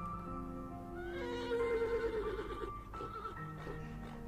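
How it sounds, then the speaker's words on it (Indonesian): Horse neighing and whinnying from the video game Mad Father, a drawn-out whinny rising and wavering over a steady musical background, moderately loud with no talk. "I hear horses. They don't sound far off."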